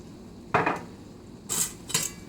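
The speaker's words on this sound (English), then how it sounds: "Give it a stir" A utensil knocks and scrapes in a pan of Cajun shrimp pasta sauce, giving three short clattering metallic strokes over quiet background.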